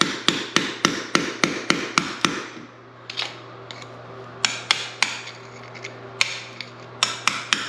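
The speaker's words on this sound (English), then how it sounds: "We should chisel out this self-leveler though" Sharp hammer blows on a chisel cutting out self-leveling floor compound, a fast even run of loud metallic strikes, a pause, then further scattered and rhythmic clusters of taps close by.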